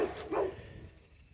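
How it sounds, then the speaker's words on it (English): A dog gives two quick, fairly loud barks right at the start, near a collection of English and Italian road bikes. The sound then fades into quiet room noise. "Say hello to the dog."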